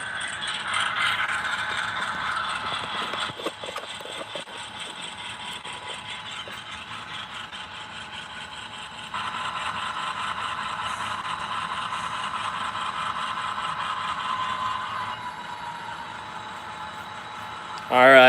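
A Norfolk Southern Top Hat Dash-9 locomotive idles nearby with a continuous, rumbling diesel drone and light mechanical rattle. The drone shifts level partway through but keeps running steadily.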